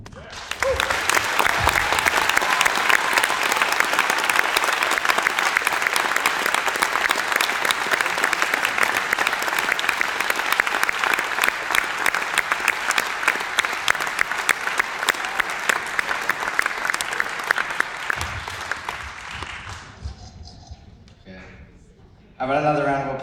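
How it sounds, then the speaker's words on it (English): Sustained applause from an audience honouring graduating senior members of a school symphonic, concert and jazz band at a 2014 year-end event, steady and full for about eighteen seconds before tapering off, with a voice briefly heard near the end. "How about another round of applause for all the seniors tonight?"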